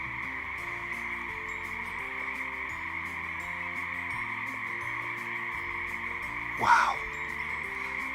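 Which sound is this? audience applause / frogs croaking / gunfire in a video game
frogs croaking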